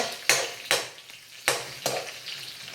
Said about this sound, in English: the oil is nice and hot and ready to use for stir fry